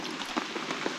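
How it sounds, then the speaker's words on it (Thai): Rain falling in a dense jungle forest, a steady patter of drops hitting leaves and surfaces nearby, with a few louder individual splats standing out. "กลางสายฝนอย่างนี้นะครับ"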